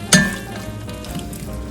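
Two tomatoes dropped into a pan of frying onions for mutton biryani, with a sharp splash and clink at the start, then a steady low sizzle close by with no voices.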